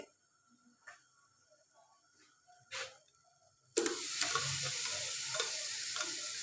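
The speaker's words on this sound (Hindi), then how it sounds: "देगची में हाफ कप हम ऑयल लेंगे और इसमें प्याज ऐड करेंगे" Chopped onions go into half a cup of hot oil in a pot on the stove for kaddu gosht, setting off a sudden loud, steady sizzle after a few soft clicks and taps.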